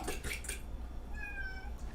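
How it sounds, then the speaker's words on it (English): A cat gives a single faint, high meow toward the end of a quiet stretch in a home kitchen during baking, with no voices over it. "That sounded like Topo."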